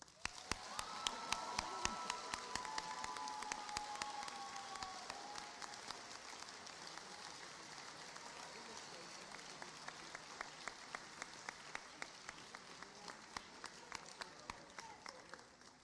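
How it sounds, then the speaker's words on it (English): Sustained audience applause at a high school senior awards ceremony, dense steady clapping from a large crowd filling the whole stretch, with a few faint voices mixed in. "Give her another round of applause to our officers and their advisors."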